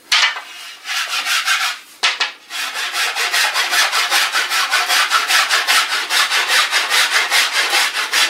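Coarse 50-grit abrasive is worked by hand along a wooden board bow, producing loud, rhythmic rasping strokes at a fast, even pace after a brief pause near the start, close up with no voices.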